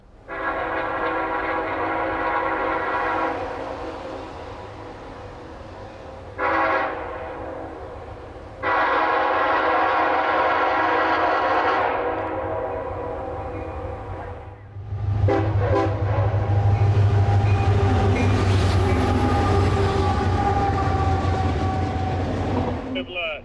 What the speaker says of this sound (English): This one being a little bit different, having a K5HL as its horn, which is very uncommon for Macs.